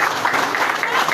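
A crowd applauds for Liberia's President-elect during his address to the nation, a brief, dense wash of clapping heard close and fairly loud, with voices mixed in.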